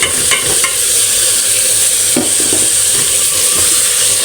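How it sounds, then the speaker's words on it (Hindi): Minced meat (keema) with garlic fries loudly in a pan, a dense close sizzle broken by scraping stirs and occasional utensil knocks, with no voices. "कीमा डाल के भूनेंगे"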